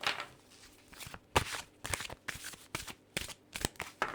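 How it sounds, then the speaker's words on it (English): Cards from an oracle tarot deck being shuffled and drawn, a run of brisk papery riffles and soft slaps in quick irregular bursts, close and fairly quiet, with no voice. "I'm going to take some extra cards from this oracle deck."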